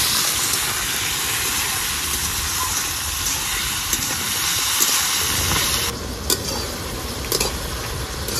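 Chopped tomatoes sauté in a hot pan with a steady, close sizzle and hiss that carries through the whole stretch, with a few light clinks of a stirring utensil near the end.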